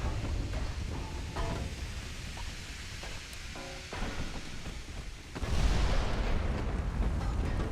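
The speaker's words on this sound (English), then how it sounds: "We've got 5-inch guns shooting at the destroyer" Heavy booming of naval 5-inch guns firing at a destroyer in the Ultimate Admiral Dreadnoughts warship game, a dull rumbling roar with scattered thuds and a louder blast surge near the end.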